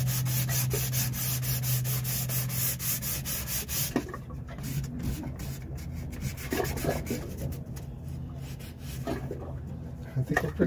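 Teak wood is sanded by hand with 220 grit sandpaper in fast back-and-forth rasping strokes, close up, at first steady and then broken into shorter scrubs, with a faint hum and brief bird calls behind.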